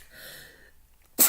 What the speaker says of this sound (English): now I got the sneezes.